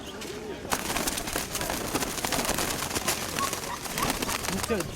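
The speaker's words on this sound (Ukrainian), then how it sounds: "по самої старої парі голубів" Pigeons coo softly at an outdoor fair, with low murmuring calls under nearby conversation and general crowd bustle.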